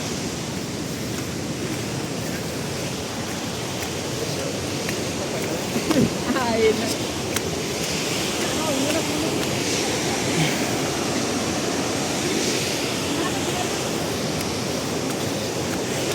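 Rain falls and water rushes steadily near a hidden waterfall in Coorg, Karnataka, making a continuous broad hiss. Someone speaks over it.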